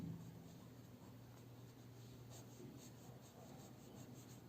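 A pen scratches steadily across paper while an answer is written out, faint and close, with no talking over it.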